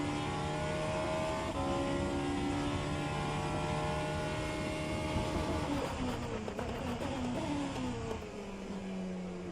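A Vanwall hypercar racing in the rFactor 2 sim at Sebring, its engine droning steadily under load with shifting pitch as it accelerates and changes gears, a continuous close-up roar with no voices.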